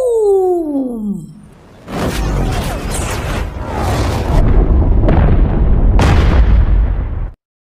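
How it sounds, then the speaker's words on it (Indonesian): A missile strikes the president's plane in an action film, producing a loud sustained explosion with repeated bursts and rumbling debris. A descending whistling tone runs before the blast, and the roar then stops abruptly. "terlihat tembakan rudal dari bawah ke atas melesat mengenai pesawat presiden"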